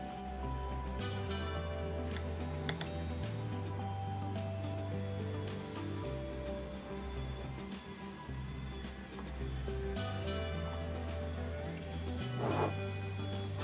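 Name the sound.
1/14 scale portable topsoil trommel screener test run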